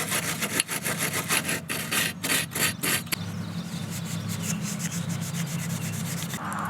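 Steel wool scrubbing distributor breaker points during a repair, a close, rapid series of raspy rubbing strokes that then settles into softer, steadier scratching.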